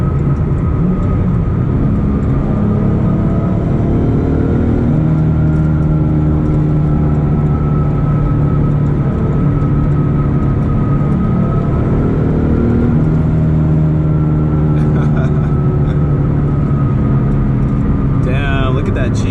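Rattle from a car likened to a sequential gearbox, a steady droning engine hum with tonal whine throughout a drive, some faint clicking near the end, loud and close.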